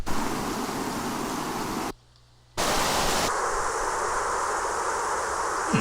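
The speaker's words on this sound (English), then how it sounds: "Here's a hailstorm." A hailstorm rendered as a dense, hollow rushing hiss, steady and loud, broken by a brief near-silent gap before the roar returns with a thinner, filtered tone.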